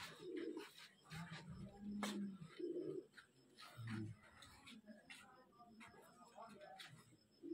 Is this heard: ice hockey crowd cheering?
no